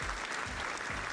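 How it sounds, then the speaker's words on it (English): A canned applause sound effect fired from an Elgato Stream Deck Pedal: a short, compressed burst of crowd clapping, fairly faint, with a low voice underneath. "Let's say you want to have applause as one of your buttons. You can press it."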